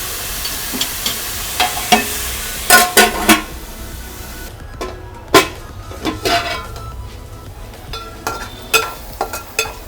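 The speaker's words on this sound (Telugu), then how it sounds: "మూత పెట్టుకొని ఉల్లిపాయలను బాగా మగ్గనిద్దాం." Onions cook in a covered pan for a sora fish (shark) curry, giving off a soft steady sizzle. Scattered clinks and scrapes of stirring and utensils break in throughout.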